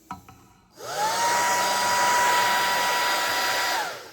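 A hair dryer switches on and blows excess water off a freshly applied decal, steady at a loud, even pitch for about three seconds before winding down.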